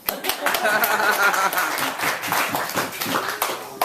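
Wedding guests applaud at a reception, a dense patter of many hands clapping fairly close and steadily, with voices mixed into the crowd noise.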